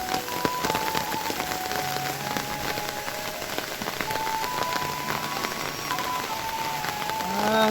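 Steady, dense rain pours down during a dry-season storm in Laos, a continuous close patter on surfaces that swells slightly louder toward the end.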